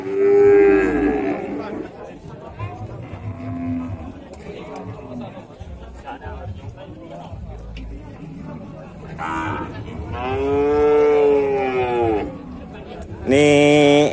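Cattle mooing at a livestock market, several long drawn-out calls near and loud, separated by stretches of quieter background murmur and crowd noise.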